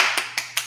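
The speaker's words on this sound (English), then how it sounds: "But what if I don't stop clapping?" Three sharp hand claps spaced evenly about a fifth of a second apart, close and fairly loud, ringing with no talk over them.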